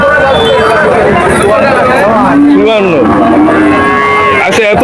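At a busy cattle market, a cow lets out a loud, drawn-out moo close by while people chatter and call out in the background.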